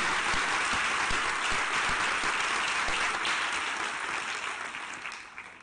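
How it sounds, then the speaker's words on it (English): Dense, steady audience applause for a filmmaker at a live science-and-cooking talk event, many hands clapping continuously before gradually tapering off near the end. "let's have a round of applause to him for the magnificent work he's done."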